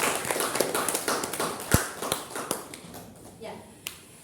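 Scattered clapping fills a classroom as students applaud, the claps quick and uneven at a moderate volume, thinning out toward the end with a few last isolated claps.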